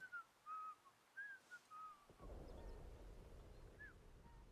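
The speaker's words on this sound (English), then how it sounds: "Who's whistling?" A whistled tune in the post-nuclear wasteland game Atomfall plays in short, faint phrases, then a sudden thump gives way to a steady low rumble while the whistling goes on quietly.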